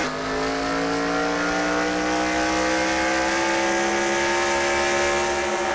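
A NASCAR Nationwide Series race car, the No. 18 of Dylan Poteet, roars steadily from the onboard camera: a loud, continuous high-revving engine drone whose pitch climbs slowly, with no voices over it.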